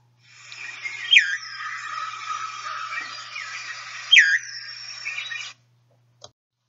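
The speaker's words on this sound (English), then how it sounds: "one that sounds like it's saying fjord" A brown thrush, the veery, calls with a whistled 'fjord'-like note: two bright, curling downward-then-up whistles stand out over a softer buzzy warble, clear and alone, then a faint click after it stops.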